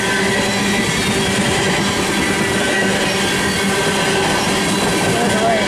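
A long 188-car freight train with 780 axles rolls steadily past, producing a loud, continuous close-up roar of wheels on rail with faint squealing tones and clatter throughout.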